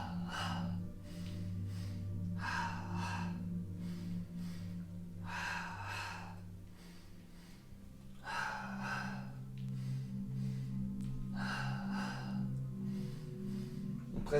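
Slow, deliberate breaths in and out during a Pilates exercise, heard as several evenly spaced airy exhalations, close and clear over a quiet sustained background tone.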